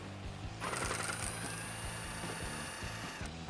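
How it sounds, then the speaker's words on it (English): A socket wrench works the single 10mm bolt holding the factory heat shield on a 2011-2014 Mustang GT. Rapid ratcheting clicks rattle steadily, up close and fairly quiet. "now you can grab a 10mm socket and remove this one bolt holding on the factory heat shield"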